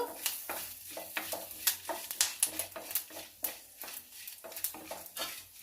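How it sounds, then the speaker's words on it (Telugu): Seeded cucumber pieces fry in a pan for chutney, with soft sizzling and a steady run of scraping stirring strokes, quiet and close. "నేను వేపుకుంటున్నానండి అట్లా."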